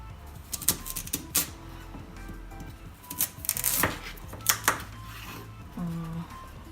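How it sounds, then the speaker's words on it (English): Knife cutting vegetables into two-centimetre wedges on a chopping board for beef burgers with caramelised onions, a series of close, irregular thuds and taps with short pauses, under low background hum and talk. "cut this in the middle. Let's cut this ends off, we don't need that."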